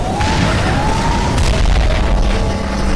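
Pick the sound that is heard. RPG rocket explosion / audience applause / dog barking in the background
RPG rocket explosion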